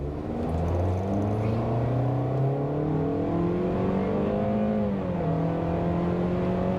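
A 2023 Toyota Corolla Cross XLE accelerates from a standstill, its engine note climbing steadily in pitch through a gear change around five seconds, droning loud and continuous from inside the cabin.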